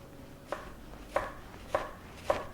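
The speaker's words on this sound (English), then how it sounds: "I'm going to slice the shallot." A knife slices through a shallot on a board in four crisp, evenly spaced cuts, each a short sharp tap against the wood, close and clear with no talking.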